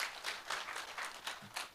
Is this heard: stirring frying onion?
no